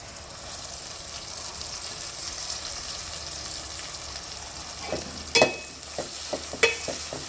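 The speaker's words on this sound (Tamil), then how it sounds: "இப்போது பாருங்கள், எண்ணெயில் நல்லா வெங்காயம் நல்லா வதங்கி ரெடி ஆகிடுச்சு" Onions and mint sautéing in oil for Dindigul mutton biryani, a steady soft sizzle with a few sharp stirring scrapes and clinks toward the end.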